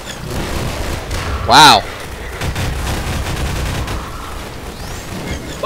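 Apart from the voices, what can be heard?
Combine energy balls firing in Half-Life 2 video game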